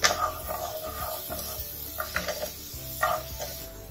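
Garlic frying in a pan for an Indo-Chinese paneer chilli dish, a soft steady sizzle broken by repeated scraping and stirring clinks of a utensil against the pan, close and fairly quiet.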